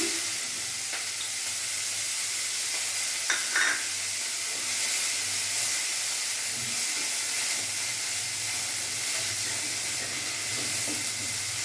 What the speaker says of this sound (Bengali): এখানে আমি কালো জিরে ফোড়ন দিয়ে দিলাম, পেঁয়াজ কুচানো আমি দিয়ে দিলাম